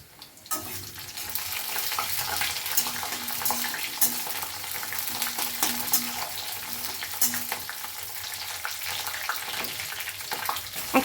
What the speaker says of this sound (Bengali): একটু ফ্রাই করে নেব রসুন কুচিটা।